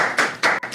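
Bursts of audience clapping from the back of a talk-show studio, three short loud swells of applause in under a second, no talking.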